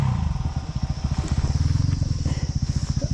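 A motorcycle engine chugs close up in fast, rhythmic low pulses as the bike rides over a potholed, rocky road, loud and continuous with occasional rattles.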